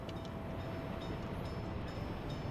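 Train pulling away from a stop in the city-building game Workers & Resources: Soviet Republic, a steady low rumble of rolling wagons running continuously and fairly faint, with no talk over it.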